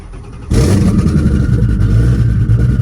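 A twin-turbo Ford Mustang GT350 engine with exhaust dumped right after the turbos fires up abruptly after a short quiet moment, then settles into a loud, steady rumbling idle close by.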